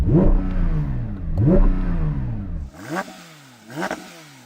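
A Porsche 911 sports car engine revs hard twice with a deep roaring growl, then calms to a lower idle while two quick, sharper blips of throttle follow.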